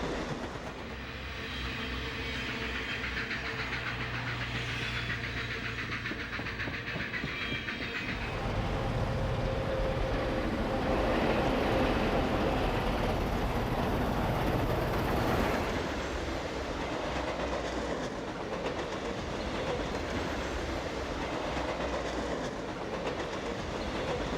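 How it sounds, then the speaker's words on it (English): Southern Pacific Daylight trains in the steam era climb a hill, one with a diesel helper, rumbling past steadily with rolling wheel clatter and engine drone, loudest around the middle before settling into a continuous roar. "Trains 99 and 98 are seen on the hill, with 99 given a diesel helper."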